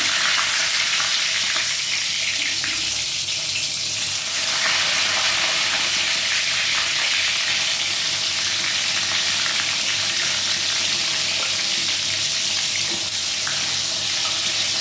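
Salted eggplant slices frying in hot oil in a pan, a loud, dense, continuous sizzle close up that holds steady with no talking.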